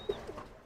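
A short, soft pigeon coo sounds once up close, followed by a fainter murmur, with a thin high chirp fading at the start.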